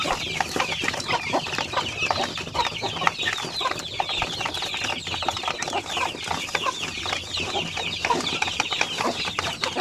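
A flock of young chickens about 45 days old cluck and peep steadily on a farm, many birds calling at once in a continuous, busy chatter close by, with no one talking.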